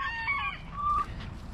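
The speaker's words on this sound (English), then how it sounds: "checking on all the chickens" Chickens cluck nearby while a rooster lets out a short crow, a brief burst of fowl calls at moderate volume on a farm with a vineyard.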